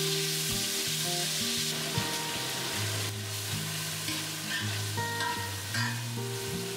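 Ginger, garlic and green chili paste with fried onions sautéing in oil for a Kolkata chicken biryani, a soft continuous sizzle with stirring under background music.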